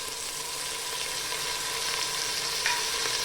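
Tomato wedges and salt frying for chicken pulao in a pressure cooker give a steady, close hissing sizzle with a faint stirring scrape near the end.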